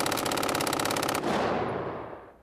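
Rapid automatic fire from an MG-42 machine gun loaded with orange paint rounds, a dense, loud continuous burst lasting just over a second before cutting off abruptly into a long reverberant decay.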